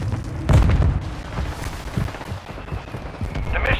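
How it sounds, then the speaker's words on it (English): In the shooter game Call of Duty Modern Warfare, a mortar strike lands with one heavy, close boom, followed by a string of smaller rumbling impacts and debris. "Mortar strike inbound."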